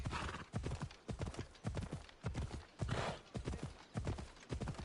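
A fiery horse in the Assassin's Creed Odyssey game gallops in a steady, fast clip-clop of hooves throughout, loud and close, with a brief whinny-like texture mixed in.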